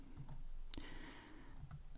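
Computer keyboard typing while coding in IntelliJ, a few scattered key clicks, light and close against a low steady background hum.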